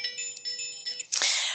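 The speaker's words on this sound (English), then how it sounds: "a lot of phone calls coming in right now for some reason" A phone rings with an incoming call during a committee meeting on radioactive and hazardous materials, giving a steady electronic tone with a sharp, brighter burst near the end. No one speaks.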